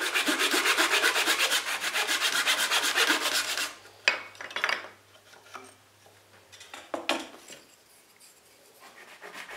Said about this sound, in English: resawing both the maple and walnut in half